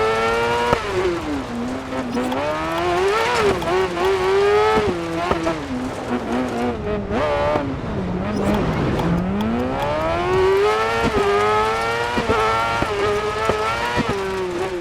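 Open-wheel race car in Dirt 4 screaming at high revs through a 6-speed gearbox, pitch sweeping up and down with rapid gear changes, loud and continuous throughout, with tire noise mixed in.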